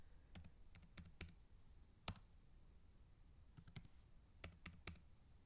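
Numbers typed on a computer keyboard into a statistics spreadsheet, quiet close key clicks in short clustered bursts separated by pauses, alone without speech.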